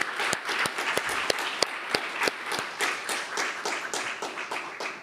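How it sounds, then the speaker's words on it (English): Audience applause at a space-business networking event in Nihonbashi following opening remarks, a dense steady patter of many hands with a few sharper claps standing out, sustained and fairly close throughout. "I would like to ask to join me giving another applause to all four of the remarks."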